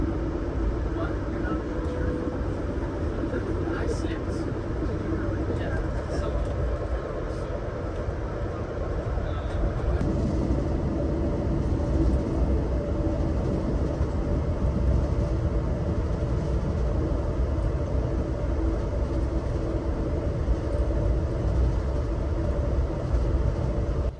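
Continuous low rumble and rattle of the Amtrak Lake Shore Limited passenger train rolling along the rails in Indiana or Ohio, heard from inside, with faint voices beneath the noise.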